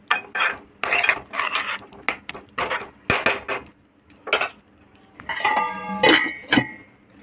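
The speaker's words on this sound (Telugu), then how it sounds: "మనం ముందుగానే శుభ్రం చేసి కడిగి పెట్టుకున్న మష్రూమ్స్ని ఇందులో వేసుకోవాలి అన్నింటిని ఒకసారి కలపాలి" Mushrooms are stirred into a curry in a pan, giving close, intermittent clinks and scrapes of a spoon against the metal in short bursts with pauses between them.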